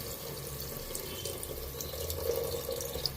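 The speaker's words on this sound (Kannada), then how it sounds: "ಇದಕ್ಕೆ ವಾಟರ್ ಅಷ್ಟೇ, ಜಸ್ಟ್ ಅದನ್ನು ಡಿಪ್ ಆಗೋವಷ್ಟು ನೀರು ಹಾಕ್ಕೊಳ್ಳಿ." Water is poured into a pan of dal, a low steady splashing trickle that runs quietly and evenly throughout, close by with no voices.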